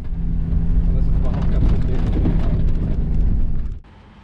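A Land Rover Defender Open Range Overland Edition drives off-road with a loud, rough, steady rumble of engine and terrain noise that cuts off abruptly near the end.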